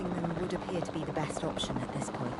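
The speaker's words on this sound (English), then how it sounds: "You do have to use the helicopter, which I'm not very good at." Helicopter rotor noise from Jurassic World Evolution 2, a steady mid-level drone running through the whole clip beneath a speaking voice and game sounds.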